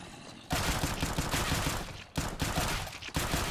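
Dense automatic gunfire from Counter-Strike: Global Offensive zombie mode roars in long continuous bursts, broken by two brief pauses, loud and close with a harsh wide-band clatter throughout.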